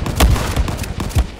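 Gunfire in a World War 2 battle video game with a Remington shotgun in play, three or four punchy low booming shots spaced irregularly over a short burst, loud and close.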